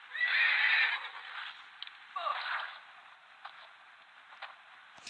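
A horse in a survival crafting video game gives a loud whinny, then softer snorts and hoof sounds follow amid game noise, with no talk.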